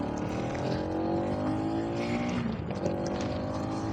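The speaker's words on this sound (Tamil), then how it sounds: "நியூ மாடல் என்எஸ் சவுண்டை கேட்டிருப்பீங்க" A new-model Bajaj NS 200 motorcycle engine pulls steadily on a reserve-forest ride, its whining exhaust note climbing through the revs with wind rush, fairly loud and continuous.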